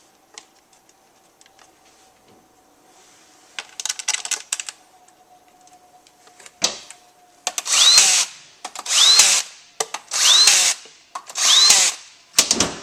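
Power tool driving in the four transmission filter bolts on a Toyota Tundra AB60 during valve body installation: faint clicks and handling first, then four loud, close bursts of whirring drill in a steady rhythm.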